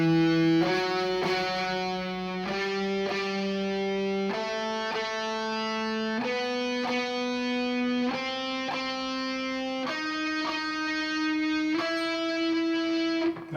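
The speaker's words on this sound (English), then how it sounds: "we're going to pick down up" Electric guitar double picking with a distorted tone, each fretted note struck twice down-up and climbing step by step through a slow pattern with brief pauses between notes, close and steady.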